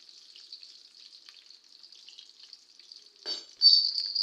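Food frying in hot cooking oil that spits and splatters, a thin steady sizzle that swells into a louder, harsher crackle near the end, heard up close with no talk.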